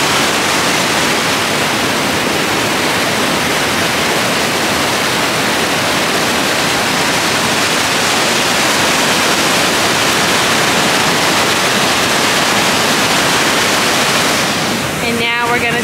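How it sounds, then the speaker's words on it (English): An Icelandic waterfall roars in a dense, unbroken wash of loud white noise that stays constant throughout, close by and overwhelming everything else. "The waterfall flows down here."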